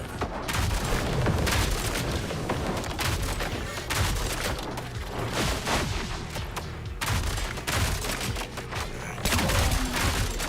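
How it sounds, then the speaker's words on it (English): Dense, continuous gunfire from the video game ODDCORE as enemies are shot, with rapid overlapping shots and booming blasts filling the mix at a steady loud level throughout. "Shooting at enemies does seem to be fine."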